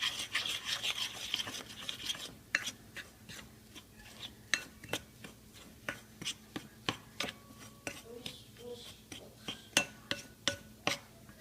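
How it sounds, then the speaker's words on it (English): A spoon stirs and scrapes through Reese's dessert bar mix with egg in a bowl, giving a close, quick run of rhythmic gritty rasps and clicks, faint overall, with soft speech near the start. "I usually try to break my yolk up with the spoon and then just kind of stir it up"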